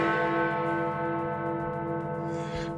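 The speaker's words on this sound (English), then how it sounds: "Big Ben is actually the nickname of the great bell within the Elizabeth Tower" The 13.5-tonne great bell known as Big Ben, in the Elizabeth Tower at the Houses of Parliament, rings out with one deep, sustained, resonant tone that hums steadily throughout.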